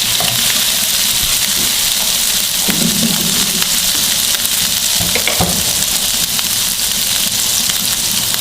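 Chopped onion sizzling in hot oil for samosa filling, a loud, dense, continuous crackle close at hand, with a few brief bumps and clinks of a utensil in the pan.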